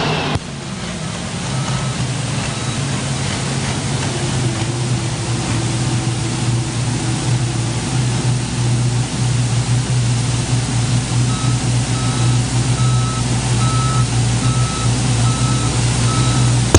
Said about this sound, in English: that noisy thing you hear is Brett Berg on the Red Seed Moneymaker out of Farmington, Minnesota